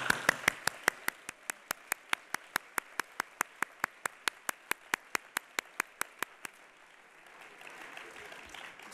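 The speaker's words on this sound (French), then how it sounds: "je vous propose de commencer par des applaudissements" Sharp, evenly spaced claps ring out in a steady rhythm at a university medicine graduation ceremony honoring new graduates, likely a single clapper or a small group in unison, then fade into soft room noise.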